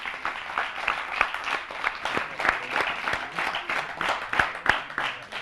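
Steady applause from a crowd at a televised awards event, dense overlapping claps with a few sharper individual claps standing out, continuing throughout at moderate volume.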